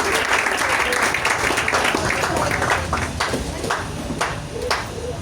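A church congregation applauds steadily, with sustained clapping and a few sharper individual claps standing out as the applause thins toward the end.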